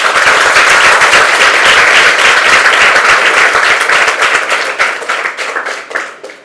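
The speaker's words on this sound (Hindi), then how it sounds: "सभी अपने गुरुओं के लिए जोरदार तालियां बजाएं एक बार" A large audience claps loudly and steadily for their teachers, a dense, sustained round of applause that thins and fades out toward the end.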